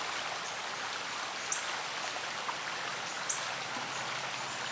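Stream water flowing just above a waterfall at a fishing spot, a steady broadband rush with small scattered splashes, heard alone outdoors.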